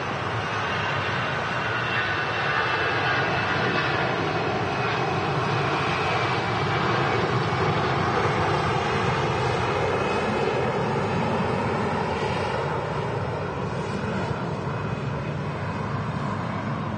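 Ryanair Boeing 737-800 departing Manchester Airport for Malaga, its jet engines roaring loud and close in a sustained, rumbling wash with shifting whine tones, steady from start to finish with no voices.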